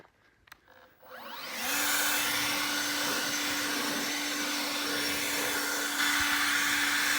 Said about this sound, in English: and now we have the blower